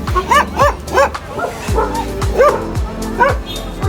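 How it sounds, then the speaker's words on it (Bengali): Dogs on a street in Darjeeling bark and yip in quick repeated bursts, mixed with high whimpers, close and loud, about eight sharp calls over a few seconds. "এখানে আসলে আপনারা আশেপাশে এরকম কিউট কিউট কুকুর দেখবেন।"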